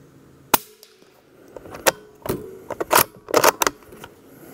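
Suppressed rifle shots and metallic bolt cycling from a Ruger American rifle at an outdoor range: a few sharp, muffled reports spaced across seconds, followed by clustered clicks and clacks of the action being worked, close by and without talk.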